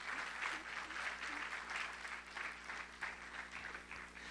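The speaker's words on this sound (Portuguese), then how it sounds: "Dê uma salva de palmas ao Senhor" Applause from a church congregation during a sermon, a steady wash of many hands clapping that holds throughout at a moderate, slightly distant level, with no talk over it.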